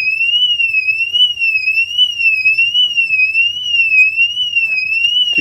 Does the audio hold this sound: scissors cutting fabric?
no